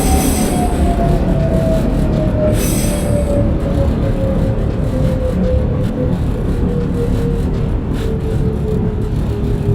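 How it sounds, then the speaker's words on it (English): An R168 Q local subway train runs in the OpenBve simulator toward Coney Island, with a steady loud rumble of wheels on rail, a slowly falling motor whine and brief high squeals early on. "This is a Coney Island Stillwell Avenue bound Q local train."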